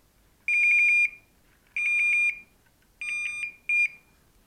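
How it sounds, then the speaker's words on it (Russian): The pager of a fishing bite alarm gives four electronic beeps, three long tones and one short one, separated by pauses. It is clear and close in an otherwise quiet room. "Единственное, что регистрирует поклевку звуком сам пейджер."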